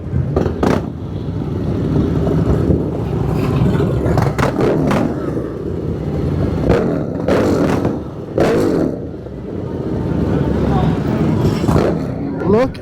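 Motorcycles ride along the road at Daytona Bike Week, with a continuous engine drone, rising revs and passing bursts close by, while people talk over it.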